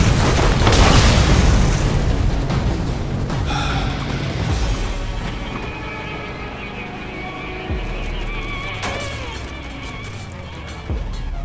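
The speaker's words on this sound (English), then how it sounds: "Slow rockets, always the slow rockets." Slow rockets from the Dahl game Borderlands exploding in a dense, loud boom at the start, then a decaying rumble with scattered gunfire and lighter impacts, close and continuous.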